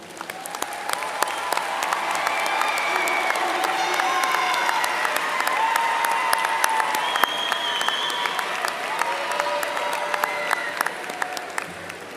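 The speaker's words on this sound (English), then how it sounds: "look at them, and give them a round of applause for their support" Graduates at a Winthrop University undergraduate commencement applaud their families, a broad, sustained wash of many hands clapping in a large hall, steady and dense for over ten seconds with faint cheers mixed in.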